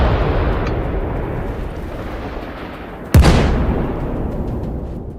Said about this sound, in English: Ukrainian artillery seizes the opportunity and pounds the stranded Russian vehicles with concentrated